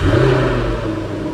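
A supercharged V8 in a Jaguar F-Type R fires up, a loud steady engine roar with a strong low rumble that eases slightly as it settles into a raised warm-up idle.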